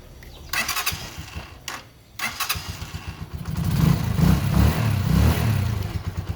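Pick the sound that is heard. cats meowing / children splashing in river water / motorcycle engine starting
motorcycle engine starting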